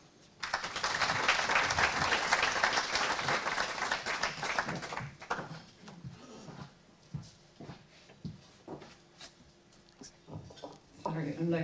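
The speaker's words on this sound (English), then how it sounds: "I'd like to get you all to give a big round of applause to Margaret Cashman" A hall audience at an All Ireland sheep shearing event breaks into loud, dense applause that lasts about four seconds, then thins into scattered claps and a few voices.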